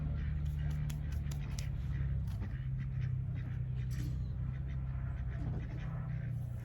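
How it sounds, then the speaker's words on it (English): Ducks quack in short, repeated calls over a steady low rumble outdoors, fairly close and continuous, with no talking. "Nosy ducks trying to come through."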